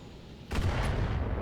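A salvo of LRM-5 missiles launched by a 45-ton Vindicator mech in Battletech, a sudden loud whooshing blast that stays dense and sustained after a quiet lead-in.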